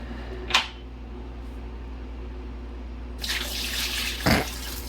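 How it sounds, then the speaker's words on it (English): Water runs from a kitchen tap into a roaster pan for beef bone stock, a rushing stream that starts partway through and keeps flowing, with a couple of brief clunks around it. "And then I'm going to fill my roaster with water."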